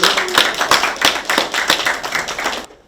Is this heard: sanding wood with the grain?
no